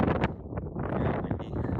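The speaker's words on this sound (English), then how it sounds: "But sorry about the wind here." Strong outdoor wind buffets a microphone, a loud rumbling roar with gusty swells that nearly drowns out the low voice of someone talking during a live stream.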